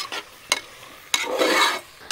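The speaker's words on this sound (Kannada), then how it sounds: "ಇದನ್ನು ಇವಾಗ ಹಾಕ್ಕೊಂಡು ಚೆನ್ನಾಗಿ ಫ್ರೈ ಮಾಡ್ಕೋಬೇಕು" Ground herb paste of doddapatre, mint and coriander is fried in a pan for pulao, a close sizzle with a few sharp clacks of a spatula against the pan and a brief louder hiss as the paste is stirred.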